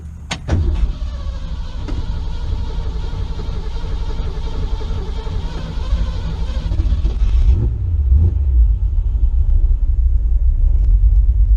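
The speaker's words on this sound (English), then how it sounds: "Road test drive with customer to a shop to do a underneath inspection." A 1968 Ford Mustang on a road test, its engine a steady loud rumble from inside the car, with a brief mechanical whir at the start and a shift in tone around eight seconds as driving continues.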